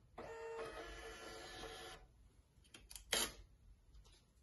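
A printer attached to a GARANT VG1 tool presetter prints measurement results, giving a steady mechanical whirring and clattering for about two seconds, followed by a few short clicks and a sharper clack, with no speech.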